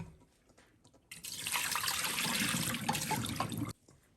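Water pours steadily from a kitchen tap for about two and a half seconds to soak pork ribs, a full hissing rush that starts and stops abruptly, with no talk.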